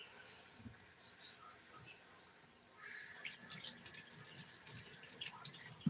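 A kitchen tap is switched on partway through and runs steadily as something is rinsed under the stream, with faint clinks and handling noises before the water starts.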